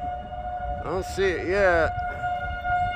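A video game civil defense tornado siren drones steadily in the distance, a sustained wailing tone running underneath as someone speaks briefly.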